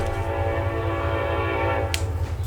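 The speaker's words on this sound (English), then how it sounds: "Apologize for the train here." A train rumbles steadily nearby outdoors, a continuous low roar with a brief horn blast near the end, alone with no talking.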